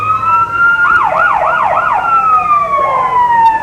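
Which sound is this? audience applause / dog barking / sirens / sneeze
sirens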